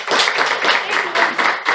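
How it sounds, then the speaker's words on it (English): A Toastmasters meeting audience gives a short burst of applause, a dense, steady patter of many hands clapping close by with no talk over it. "you deserve a huge round of applause"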